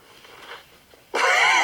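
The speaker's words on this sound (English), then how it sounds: "Forgive the heavy breathing." Strained, wheezing breath from a person hauling down with full body weight to force a shock mount into place; faint breathing first, then a sudden loud, harsh, rasping exhale close to the microphone.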